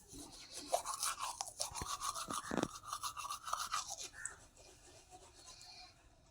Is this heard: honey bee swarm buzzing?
no